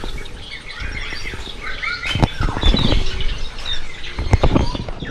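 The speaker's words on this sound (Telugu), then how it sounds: "కేజీలో చిన్న చిన్న పిచ్చుకలు ఉన్నాయి" Small sparrows in a cage at a Goa aquarium chirp and tweet busily, with wing flutters and scrabbling, close and continuous.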